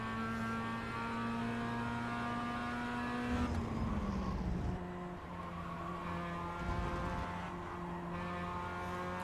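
A Mazda race car in the iRacing sim holds a high steady engine note, then drops pitch under braking with a burst of tire scrub before pulling away again.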